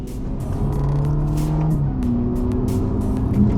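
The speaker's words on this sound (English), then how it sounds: "you're cruising at 20 miles an hour in 6th gear" Ferrari Roma cruising at about 20 mph in sixth gear, giving a steady low engine drone with light road and tyre noise, continuous and close for the whole stretch.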